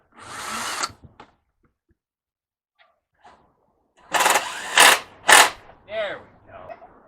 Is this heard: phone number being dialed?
no